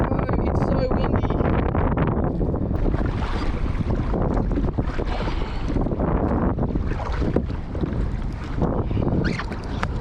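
Strong wind beside the Tweed River roars steadily over the microphone as rough, continuous buffeting noise, loud and unbroken for the whole stretch, with no talk.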